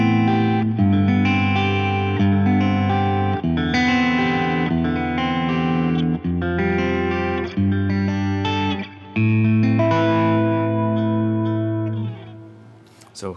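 Electric guitar with distortion and chorus effects plays a chord progression without thirds: sustained, thick chords change every second or so, loud and close, before the last one fades out.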